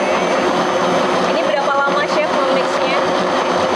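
An electric mixer whirs steadily as it blends carrot cake batter with almonds in a hotel kitchen, a loud continuous drone running the whole time while people talk over it.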